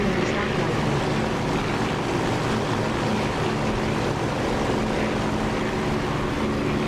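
Steady propeller-aircraft engine drone during a takeoff run in the DCS flight simulator game, a dense continuous roar with broadband rumble holding level throughout, no spoken voices over it.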